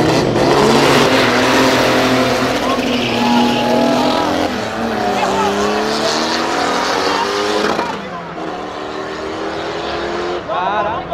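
A turbocharged four-door Chevrolet Opala roars loudly through a street drag race, its engine note rising and shifting continuously for several seconds with a dense, close-up rasp, and crowd voices are mixed into the din.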